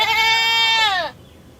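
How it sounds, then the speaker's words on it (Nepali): A goat lets out one long, loud, wavering bleat close by. It trails off abruptly, leaving quiet background. "यहाँ बाख्रा नि कराइरहेछ"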